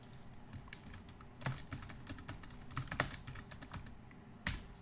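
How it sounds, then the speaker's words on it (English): A headline is typed on a computer keyboard. Keys click quickly and evenly at close range, with a few heavier strokes mixed in. No one speaks. "we'll just go in here and we'll type our headline here"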